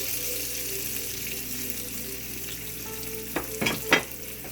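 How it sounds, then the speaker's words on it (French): Sliced onions hit a hot pan and set off a steady, broad sizzle of frying, with a few sharper bursts near the end as they are stirred. "Je mets mes oignons. Tranchés."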